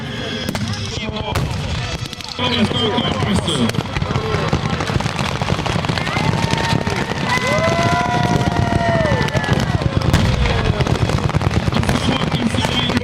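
Battle of Kyiv war footage carries loud, continuous explosions and artillery fire, with dense crackling bursts and rumbling blasts layered throughout.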